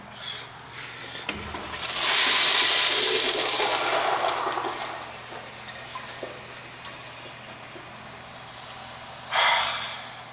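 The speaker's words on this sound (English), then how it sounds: "That was five flushes right there." A 2006 Eljer toilet flushing, a loud rushing swell of water that runs for a few seconds and then fades into a quieter trickle, with a second brief surge near the end.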